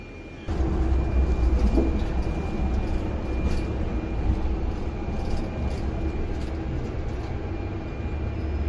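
A passenger train rumbles along in a city center, a steady low roar that rises suddenly and holds at moderate loudness, with a faint high whine above the rumble.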